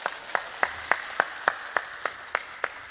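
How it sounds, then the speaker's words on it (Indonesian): A crowd at a Ramadan religious gathering claps in unison, about nine sharp, evenly spaced claps landing roughly every third of a second, loud and close. "Tepuk tangan disit kok."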